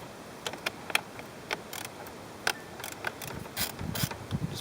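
A ratchet clicks in short, irregular bursts of sharp ticks while breaking loose the 10mm nuts on the ignition coils of a BMW engine during spark plug replacement, fairly quiet and close.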